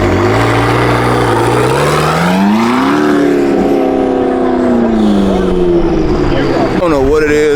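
A McLaren 650S supercar at a car show revs loudly and close, its engine note climbing and holding high before dropping, while people talk over it.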